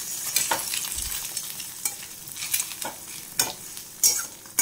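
Food fries in a pan with a soft, continuous hiss, broken by sharper scraping and clinking bursts as it is stirred every second or so.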